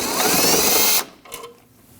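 A ratchet wrench loosening a 10mm bolt on a Honda CR-V headlight, a close, loud whirring clatter for about a second, then a brief faint click and near quiet.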